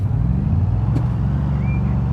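Cars idling in a traffic jam in the Construction Simulator video game, a steady low engine rumble, close and continuous, with no talk over it.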